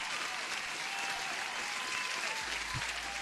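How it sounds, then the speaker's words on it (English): An applause sound effect played during a live trading stream: steady, even clapping that fills the whole stretch at a moderate, slightly distant level, with no voices over it. "Applause for everyone."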